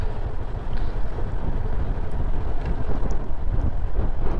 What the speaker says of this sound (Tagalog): Malakas-lakas yung hangin